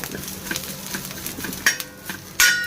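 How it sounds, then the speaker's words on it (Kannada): Cumin seeds fry gently in hot oil with a soft, steady crackle, broken by a few sharp metal clinks of a spoon against the pan and no voices. "ಜೀರಿಗೆ ಹೊತ್ತೋದು ಬೇಡ್ರಿ ಭಾಳ. ಸ್ವಲ್ಪ ಇಷ್ಟು ಫ್ರೈ ಆದ್ರೆ ಸಾಕು."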